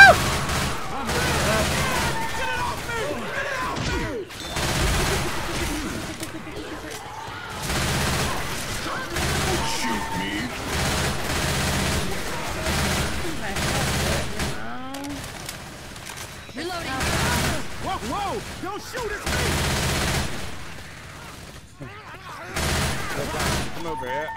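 Gunfire in the zombie co-op shooter Left 4 Dead, with repeated shots and bursts running through a busy firefight while several players talk and shout over the action.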